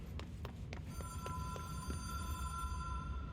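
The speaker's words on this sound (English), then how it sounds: "Oh, okay, that's the phone." A telephone rings in the video game Control, a steady repeating bell tone over a dense low rumble of background game sound, moderately faint with no talk.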